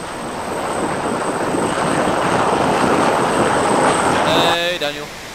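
An aircraft with its landing gear down in the video game Arma 2, a loud, continuous rotor-like engine drone that swells and then drops off abruptly near the end, under people talking.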